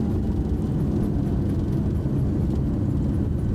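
Airliner thrust reversers deploying after touchdown on landing, a steady, loud, low engine roar that holds evenly throughout with no break.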